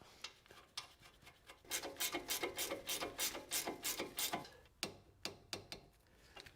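Ratchet wrench tightening the lower ball joint lock nut on a Jeep Cherokee front suspension, a close, quiet run of rapid clicking strokes in rhythmic bursts, then a few slower separate clicks.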